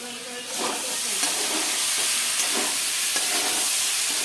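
Lid lifted off a pan of potatoes cooking for a spicy vegetarian curry, releasing a steady, close steam hiss with faint sizzling underneath, rising at the lift and holding for several seconds.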